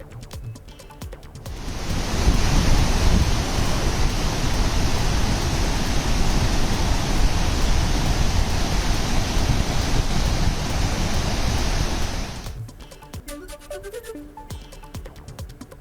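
Chitrakoot and Tirathgarh waterfalls in Bastar after heavy rain, a loud, dense, continuous roar of rushing water lasting about ten seconds before dropping back to quieter background sound.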